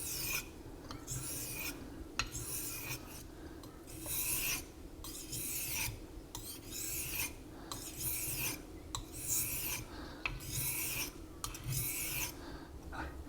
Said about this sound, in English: you can hear that it's not as rough, you know, when I'm actually sharpening the blade.